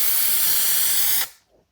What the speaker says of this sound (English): let's spray the first pass on top